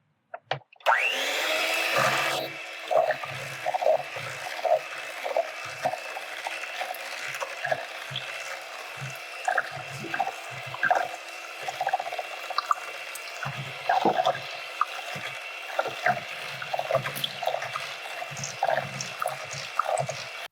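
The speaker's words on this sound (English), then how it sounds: "Now let's add the evaporated milk." Evaporated milk mixed into sweet potato pie filling with an electric mixer, a steady whirring hum overlaid with soft wet squelching pulses, close and continuous.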